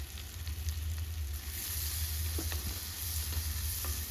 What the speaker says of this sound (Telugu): ఉల్లి తరుగు కొద్దిగా వేగనిచ్చి